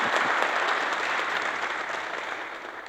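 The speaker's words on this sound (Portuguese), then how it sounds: "uma salva de palmas então ao Grupo Vocal Kairos" Steady applause from a church congregation at a 70th-anniversary community service in Balneário Camboriú, honoring a vocal group; dense clapping holds at an even level throughout and fades slightly toward the end.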